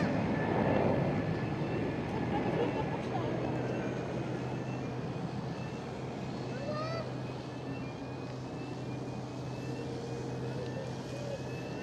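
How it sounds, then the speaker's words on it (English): An Air France Airbus A220 departs from runway 24 at Amsterdam Schiphol, its jet roar loudest at the start and easing to a sustained, fairly distant rumble, with faint chirps and honks scattered over it. "Air France A220 departing from runway 24."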